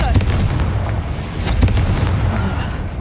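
A Confringo blasting spell goes off in Hogwarts Legacy, giving a loud, close explosive boom followed by a second burst and crackling, rumbling debris.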